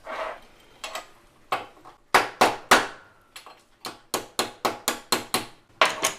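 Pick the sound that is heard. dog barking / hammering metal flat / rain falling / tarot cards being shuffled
hammering metal flat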